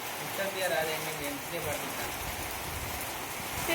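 Steady rain falls during an outdoor village comedy shoot, a soft continuous hiss of drops throughout, with voices talking over it.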